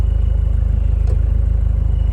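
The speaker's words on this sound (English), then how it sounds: "has a side exhaust that you can hear." A restored 1995 Toyota Land Cruiser KZJ73 with a 3.0-litre 1KZ-T turbo diesel idles through its side exhaust, giving a close, loud, even chugging throb that runs steadily on its own.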